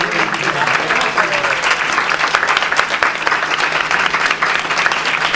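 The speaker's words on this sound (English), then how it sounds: "give a round of applause to He-Man" Dense audience applause for He-Man fills a convention panel room at Power-Con/ThunderCon 2017, steady and loud clapping from a large crowd throughout with no break.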